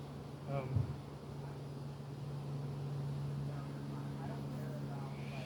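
Honey bees buzz in a steady, close drone during a beehive inspection, with a few louder handling knocks near the start and a person talking softly underneath.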